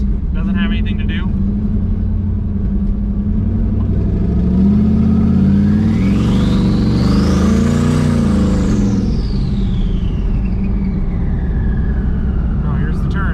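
A car fitted with a new exhaust, with dumped exhaust tips exiting at the fenders, pulls away and revs up, its engine note swelling loudly and rising in pitch before settling, while people talk nearby.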